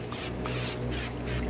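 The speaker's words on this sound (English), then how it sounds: "the last process is just to spray this with a coat of spray canola" Four short, close hissing bursts of canola oil sprayed from an aerosol can onto a Nexgrill griddle during seasoning, each spurt separated by a brief pause.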